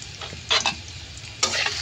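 Chopped onion dropped into hot cooking oil and stirred, giving short bursts of sizzling and scraping in a quick uneven rhythm, close and fairly loud, with a low steady hiss underneath.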